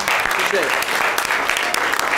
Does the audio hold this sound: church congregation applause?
yes